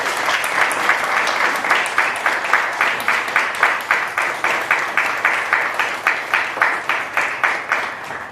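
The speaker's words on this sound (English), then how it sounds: "Give them a round of applause, please." Conference audience at the Cambridge Africa Business Conference applauding the organizers, a loud, sustained burst of clapping with a steady rhythmic pulse running throughout, close and full.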